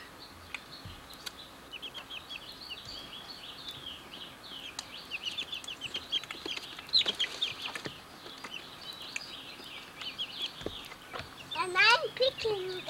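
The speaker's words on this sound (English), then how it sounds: "helped hatch these chickens" Two-week-old chicks cheep and cluck continuously at low volume, with scattered taps; a louder chirping burst comes near the end.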